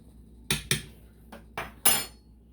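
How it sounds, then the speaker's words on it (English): A spoon stirs beans in a pot, giving a handful of sharp close metallic clinks and scrapes in an uneven rhythm, with quiet between them. "We're going to stir our beans."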